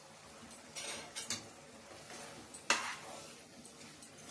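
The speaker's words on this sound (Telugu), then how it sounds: "ఒకసారి మూత ఓపెన్ చేసి కలుపుకుందామండి." Aloo kurma in a covered pot: the lid lifts off with a clatter and a spoon clinks and scrapes against the metal pot while stirring, with several sharp knocks spread over a few seconds. No one speaks.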